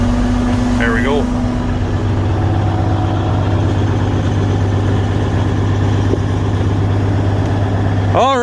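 Case 835 machine engine idling to warm its hydraulic oil in snow, a steady low diesel rumble with a constant hum close by, briefly marked by a faint squeal near the start and end.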